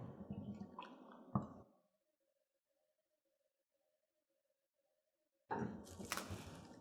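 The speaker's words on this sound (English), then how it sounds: "I'm gonna pour it into a glass container" Thick butterbeer pudding poured into a glass container in a home kitchen, giving wet squishy glopping and dripping sounds at close range, with a long quiet pause before more sloppy plops and scraping.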